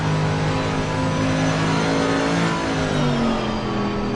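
Race car engine in Assetto Corsa Competizione revving hard and steadily, a loud, continuous mid-pitched drone with shifting harmonics as the car accelerates, with no talk over it.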